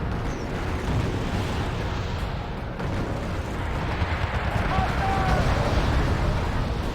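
Missile strike explosion in the war strategy game Wargame AirLand Battle, NATO Fortress Oslo campaign: a dense, sustained rumbling roar of blasts and battle noise filling the whole stretch, loud and steady with a brief dip partway through.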